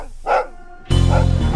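A dog barks close and loud: one sharp bark, a brief pause, then a longer run of forceful barking.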